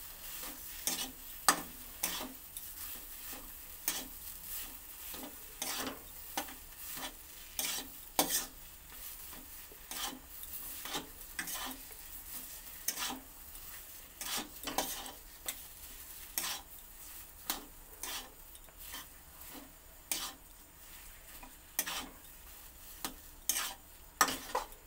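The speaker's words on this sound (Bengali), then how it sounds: "পুরটাকে আমি সমস্ত কিছু একসঙ্গে মিশিয়ে পুরটা তৈরি করে নেব।" Spoon scraping and stirring potato chop filling with garam masala in a pan, a steady run of close, crisp scrapes and clacks against the metal over a faint background hiss, with no voices.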